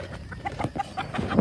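Chickens at a large breeder farm cluck softly and intermittently at feeding time, several short calls overlapping near and far over a low background rustle.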